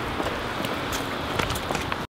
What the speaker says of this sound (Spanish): nos tenemos que ir porque empezó a llover otra vez